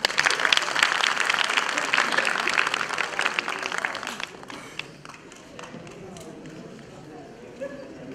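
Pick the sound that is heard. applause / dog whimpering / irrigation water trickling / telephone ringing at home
applause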